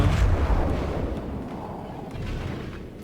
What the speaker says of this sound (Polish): Za wysoko tam strzeliłem, ale wystarczyło.